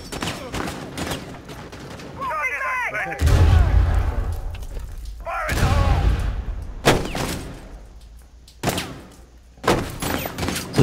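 Breach charge blasts and gunfire in Rainbow Six Siege on the House map, with heavy booming thuds and sharp bursts of shots spread across the clip, mixed with game chatter and voices.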